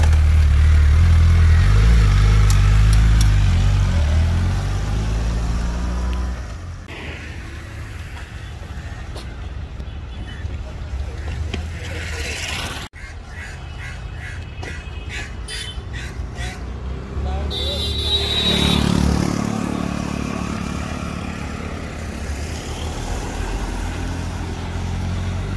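Suzuki Hayabusa motorcycle engine pulling through first gear on a ride, a loud steady roar with revving swells and a gear change partway, people talking over it throughout.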